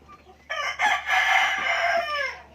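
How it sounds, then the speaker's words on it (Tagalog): Rooster crowing close by after a brief soft cluck, one long loud cock-a-doodle-doo in several rising and falling segments, with no speech over it. "meron tayo ditong mga manok na sisilim-liman"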